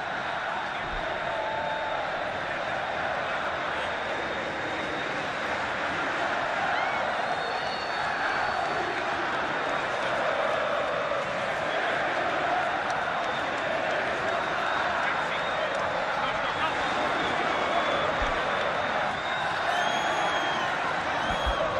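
A large football crowd at the Maracanã cheering as Vasco takes the pitch, a steady distant roar with scattered applause under a commentator's voice.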